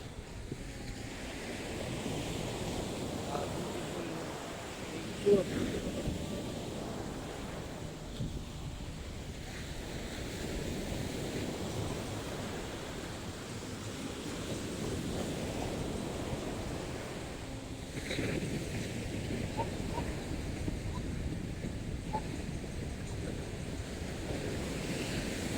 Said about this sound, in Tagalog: Guys, ang dagat.